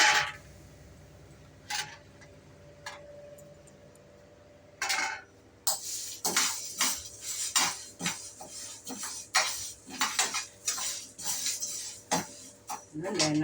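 Dried sundakkai berries dry-roast in a pan, heard as quiet stretches broken by irregular metallic scrapes and clinks of a spoon against the pan that come thicker and more rhythmic in the second half.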